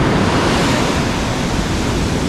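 Large ocean waves break and surge around a small fishing boat out at sea, a loud, continuous roar of churning surf and wind filling the whole stretch with no voices.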